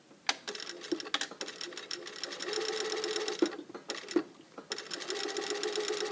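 A sewing machine stitches a blazer lapel, running in steady bursts with brief pauses for a back tack, close and clear with no talk over it.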